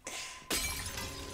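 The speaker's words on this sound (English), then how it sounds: "There's glass everywhere." Glass shatters in an anime bar scene: a short lead-in, then a sudden loud crash and a crystalline spray of breaking shards that rings out and trails off.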